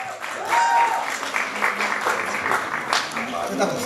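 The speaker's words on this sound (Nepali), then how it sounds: "यहाँको लागि पनि जोरदार ताली।" A large audience gives loud, sustained applause at the Lumbini Lok Dohori folk duet music awards final, a steady wash of clapping with a faint whistle and voices mixed in.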